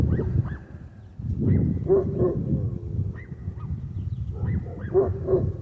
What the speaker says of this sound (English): I really wish that dog had shut up too, both of them.